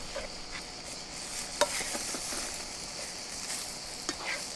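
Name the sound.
beef strips and rucola sizzling as they're turned in the pan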